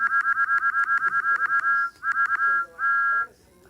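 Steam train whistle in a railway video game, a shrill tone sounded in a rapid train of short repeated toots, then a few more bursts and one longer blast, with faint talking underneath.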